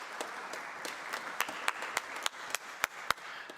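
Light audience applause at a conference session, a faint, sparse patter of individual claps with sharper hand slaps standing out.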